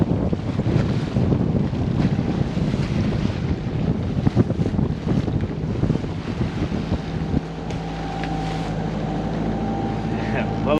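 Wind gusts over a motorsailer crossing upbound from Lake Erie, roaring steadily against the microphone with a low engine drone and water wash beneath, the buffeting easing slightly toward the end.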